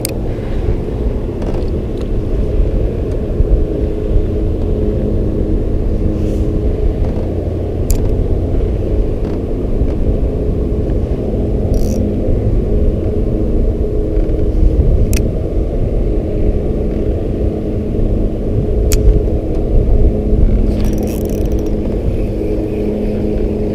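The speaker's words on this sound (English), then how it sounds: "Might just have to jump on the trolling motor to get my last fish here." Small electric trolling motor on a fishing boat running steadily, a continuous low hum and rumble with faint mechanical whir and water noise throughout, no talk.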